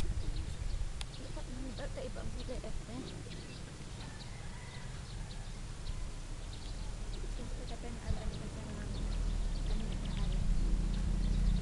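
Caged racing pigeons waiting before release at an official club training toss, cooing and fluttering softly against outdoor background noise and rumbling, with occasional faint voices nearby.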